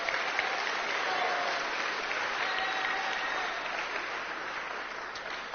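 School assembly audience applauding the class of 2026 seniors, steady dense clapping from a large crowd, held at an even level throughout, somewhat distant and muffled.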